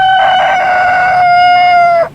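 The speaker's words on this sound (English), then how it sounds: "hen." A hen gives a single loud, close crow lasting about two seconds, a sustained strained call that holds steady before cutting off abruptly, heard alone with no talk.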